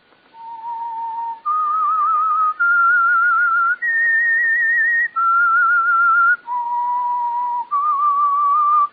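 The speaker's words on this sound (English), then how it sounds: "That whistle is your signal for the Signal Oil program," A whistled melody serving as the theme for the Signal Oil radio program The Whistler: a clear solo whistle stepping through sustained notes in a slow, eerie phrase, loud and close with no talk.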